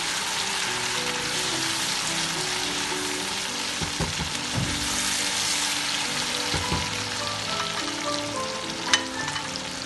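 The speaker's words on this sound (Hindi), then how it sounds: "तो मैं थोड़ा सा भूनूंगी।" Onion, garlic and ginger sizzle and fry steadily in a pot while being cooked for beef biryani, a dense continuous crackle with occasional stirring knocks and scrapes, close and fairly loud, with no talking.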